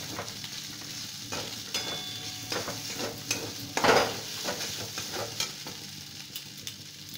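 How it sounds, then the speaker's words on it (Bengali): Spices are being stirred into potatoes in a pan for a stuffed capsicum dish, giving a soft sizzle with repeated spoon scrapes and clinks that come close and fairly quiet, peaking once midway. "এবার আলুর সাথে চাপটি মিশিয়ে দিতে হবে মশলাগুলো"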